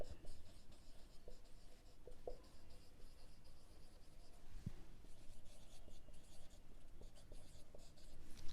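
Pen on paper at close range during an accounts lesson, a soft scratchy scribbling with small taps and pauses, faint and intimate, with no speech.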